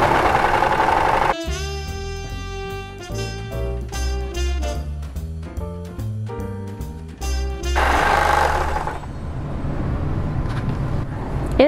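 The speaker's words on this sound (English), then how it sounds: "So with a serger, I need to be careful and make sure that my sides line up." A serger stitches the sides of a fabric panel for a sewing machine cover, a fast mechanical whirring with rhythmic motor pulses in short runs, close up, starting and stopping between passes.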